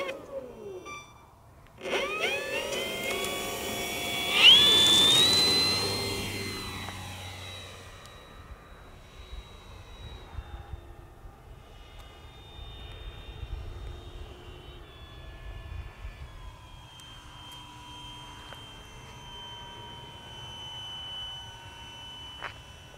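A DRACO model aircraft engine winding up to a loud high-pitched whine, then spooling down after the throttle is cut and settling into a faint sustained tone over quiet outdoor background, with no talk.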